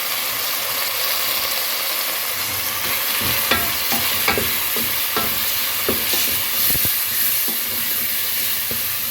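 Fish masala with Kashmiri red chili fries in oil in a continuous close sizzle, with scattered clicks and scrapes of a spoon stirring the pan and no voices.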